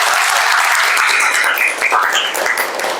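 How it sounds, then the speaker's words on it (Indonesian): A classroom audience claps for a student group in a dense burst of applause that fades somewhat toward the end. "Tepuk tangan dulu untuk kelompok 1."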